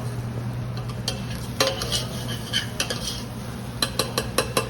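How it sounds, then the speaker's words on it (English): Spoon scraping and clinking against a pan while stirring sausage, bacon and pea risotto that is starting to stick and brown, with scattered metallic taps over a low steady hum and faint sizzle. "I want to stir it because it's starting to stick to the pan a little bit."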